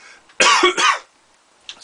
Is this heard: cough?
yes